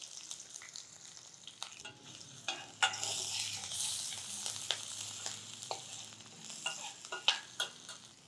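Curry leaves dropped into hot oil with frying cumin seeds crackle and spit in a pan, with a burst of sizzling and scattered sharp pops and spoon clicks over a steady frying hiss.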